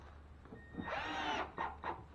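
A power drill driving screws into drywall sheetrock during water-damage wall repair, a short whirring run followed by two quick bursts, close and moderately loud, with no talking.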